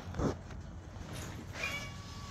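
A pet cat meows once, short and fairly close, followed by a fainter second mew amid quiet room ambience.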